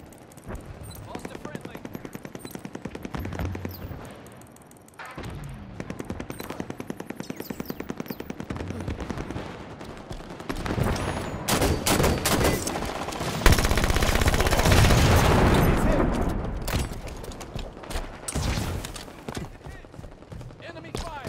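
Gunfire from the video game Halo 5 Guardians rattles through a long stretch of rapid automatic bursts and sustained barrages, loud and continuous, with game voices and effects underneath.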